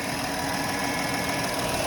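A 2015 Volkswagen Touareg 3.0 TDI diesel engine idles with a steady, smooth mechanical hum and faint rhythmic ticking, without vibration, heard up close with no talking.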